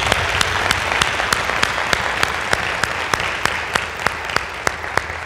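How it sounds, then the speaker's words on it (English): Loud audience applause at a school district's State of the Schools event, steady dense clapping from a large crowd with sharper individual claps standing out, alone without talk. "can we just give them a round of applause?"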